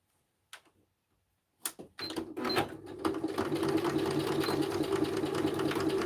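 A sewing machine starts up after a couple of soft clicks and runs in a steady, close mechanical whir, stitching a paper craft embellishment made from scraps.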